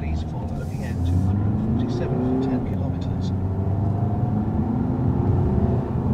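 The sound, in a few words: Skoda Superb Combi 150 TDI diesel car accelerating onto road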